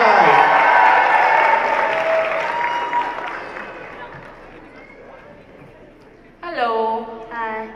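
Applause from the audience at the Yuva fashion show, starting under a loud amplified voice and thinning to a softer scattered clatter before another voice speaks near the end.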